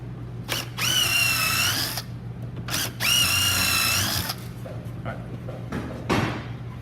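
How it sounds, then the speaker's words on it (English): A power drill bores pilot holes near the edge of a wooden board in two sustained whining bursts of about one and a half seconds each, separated by a short pause, with faint knocks and handling noise after. "we're going to make 2 holes. You want to make sure that you don't get too close to the edge."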